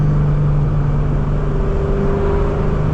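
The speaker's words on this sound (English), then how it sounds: "it probably has the loudest whine of all the twin screws you could possibly get" Supercharger whine from a 500hp Ford Cobra's twin-screw blower on a night drive, a loud steady high-pitched tone riding over the continuous engine roar throughout, close and unbroken.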